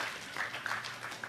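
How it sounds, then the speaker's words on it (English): Graduation commencement audience clapping as names are read, a soft, distant patter of hands filling the brief moment without voices. "it's fine to do the King clap here"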